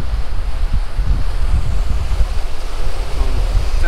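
Steady rushing wind buffeting the microphone and the wash of waves aboard a cruising sailing catamaran at sea in about 16 knots of wind, loud and continuous with no one speaking.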